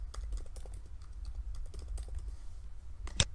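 A password is typed on a computer keyboard while setting up web hosting: a quick, irregular run of soft key clicks, ending with one sharper, louder keystroke.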